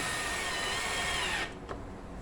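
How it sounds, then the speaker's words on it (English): A handheld power screwdriver whirs steadily while driving a screw into shelf material, a loud continuous motor whine close by that drops off abruptly near the end, followed by a brief click. "this is a power screwdriver, not even a drill, so that I don't blast through the side of the material"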